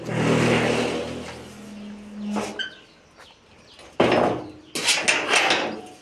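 A house door opens with a few sharp knocks and scraping clunks, heard close, while faint birdsong and a distant passing vehicle carry on outdoors.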